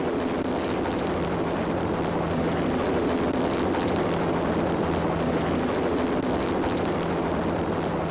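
A helicopter in the Max Payne video game hovers nearby with a steady, loud rotor thrum and engine drone that stays constant throughout.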